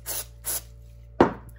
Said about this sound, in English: I'll spray this with contact cleaner again